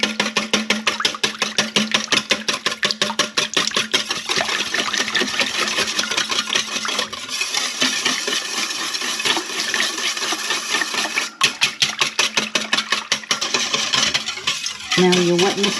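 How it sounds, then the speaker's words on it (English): A whisk beats chocolate cake batter with added coffee in a bowl, giving rapid, even, rhythmic clatter that runs almost without a break for about fifteen seconds, loud and close. "Whisk all this together."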